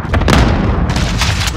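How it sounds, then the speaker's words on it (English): Cluster strike explosions from the Call of Duty: Modern Warfare video game, a quick burst of loud, heavy booms rolling together over a second and a half. "Allied cluster strike inbound."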